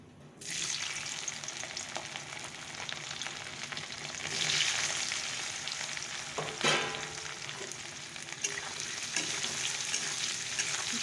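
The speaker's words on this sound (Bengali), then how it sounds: "শুকনো লঙ্কা দারচিনি আর তে জিরে ফোড়নে দিয়ে দিয়েছি তো চলো এবার আলুগুলো ছেড়ে দিই" Potatoes frying in hot oil with dried red chilli, cinnamon and whole spices, a steady close sizzle with occasional stirring scrapes and clatters, no voices.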